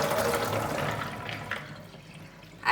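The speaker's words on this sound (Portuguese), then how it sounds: "Depois que a gente deixou ele 24 horas, eu vou escorrer aqui." Water drains off chickpeas soaked for 24 hours for hummus: a steady, close rush of pouring and splashing that gradually thins out, ending with a short final splash.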